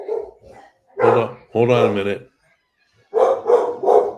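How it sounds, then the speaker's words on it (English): A dog barks a few times in the background, sharp yips between stretches of someone talking over it, some barks overlapping his voice. "That's a dog barking."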